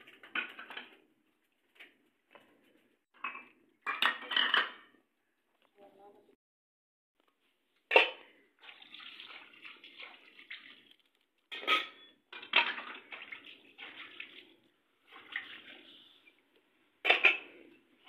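Dishes, pots and cutlery being washed in a home kitchen, with intermittent clinks and clatters in short bursts, close by and moderately loud, separated by quiet gaps.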